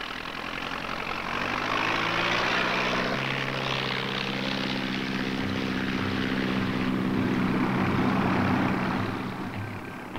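Propeller aircraft on its takeoff run, a steady droning engine roar with whirring prop tones that swells slightly and holds, heard from fairly close without speech.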